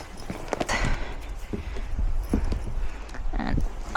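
Horse hooves clip-clop at a walk out on a hack, a steady, fairly close series of hoofbeats with a rider aboard.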